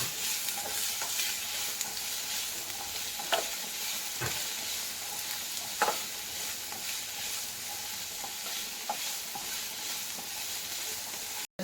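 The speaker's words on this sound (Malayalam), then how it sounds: "ചെറുതായി അരിഞ്ഞു വെച്ച ഇഞ്ചി, വെളുത്തുള്ളി, സവാള അത് ഇതിലേക്ക് ഇടുകയാണ് കേട്ടോ." Chopped ginger, garlic and onion sautéing in a pan, a steady soft sizzle with occasional stirring scrapes, close and without speech throughout.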